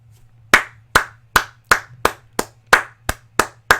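Hands clap in a slow, steady rhythm, about ten sharp claps spaced roughly evenly, close and loud over a faint low hum.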